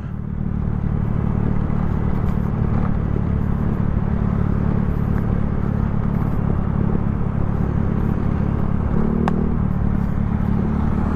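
A Yamaha Mio Sporty scooter's engine runs loud and close in a steady unbroken rumble, the revs holding high throughout with a brief clatter near the end.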